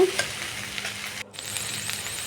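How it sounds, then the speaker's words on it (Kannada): Salted okra (ladyfinger) fries in oil in a pan, giving a close, steady sizzle with occasional stirring scrapes and no voices. "ಇದು ಚೆನ್ನಾಗಿ ಫ್ರೈ ಆಗಬೇಕು ನೋಡಿ ಇದು ಚೆನ್ನಾಗಿ ಫ್ರೈ ಆಗಿದೆ"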